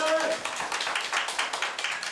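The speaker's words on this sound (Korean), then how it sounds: "유족들은 법원의 무죄 판결에 눈물과 박수로 화답했습니다" Scattered applause from the families of victims in a courtroom as an acquittal verdict is read, with soft patterings of clapping over a murmur and a short voice at the start.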